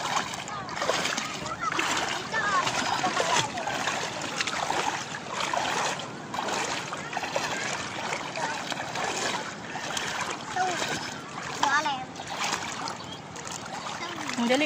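Children swimming at Bulusan, Sorsogon, with continuous nearby water splashing and sloshing throughout, mixed with frequent chatter and calls from children and adults.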